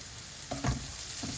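Curry leaves and green chilies fry in hot oil in a pan with a steady close sizzle and a couple of brief stirring scrapes.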